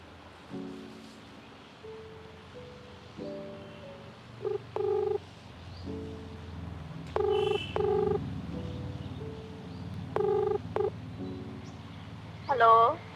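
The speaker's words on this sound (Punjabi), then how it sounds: "ਮੇਰਾ ਇਰਾਦਾ ਵਾ ਰੁਪਿੰਦਰ ਨੂੰ ਫੋਨ ਕਰ ਹੀ ਦਵਾਂ" A phone number being keyed on a telephone keypad, producing short bursts of clear beeping tones with pauses between them over a low, steady background hiss.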